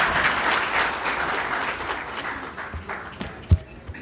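Audience applause welcoming a guest at a national convention in India, a dense wash of clapping that gradually thins and fades, with a sharp thump near the end.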